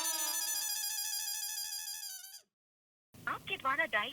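A phone ringing unanswered, a bright warbling electronic ringtone going on for a couple of seconds, then cutting off into silence before a voice begins.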